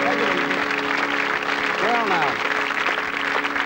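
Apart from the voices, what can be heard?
studio audience applause on game show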